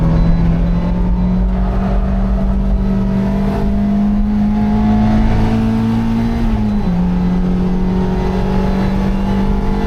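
Race car engine on a track, a loud sustained drone held close throughout with a slight pitch dip near the end, no talk.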